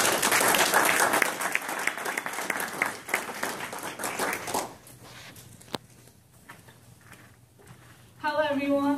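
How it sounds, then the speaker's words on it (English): Audience applause greets a presenter from SIINNO Technology coming on stage at a LaunchPad City event in Frisco, Texas; dense, loud clapping for about five seconds, then thinning and fading, with a brief voice near the end. "we're going to clap her on up to the stage"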